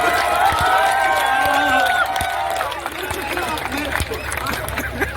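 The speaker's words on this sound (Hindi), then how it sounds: "ताली बजाओ भाई साहब" A crowd at a Holi festival poetry gathering in Prayagraj claps and cheers, a pattering burst of applause under a voice, louder at first and then continuing more softly.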